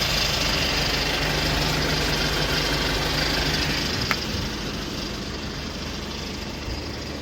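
A 2015 Kia Bongo 3 one-ton refrigerated truck with a manual gearbox and a Euro 5 diesel engine idles in a steady, dense low rumble, continuous and fairly loud with no voices.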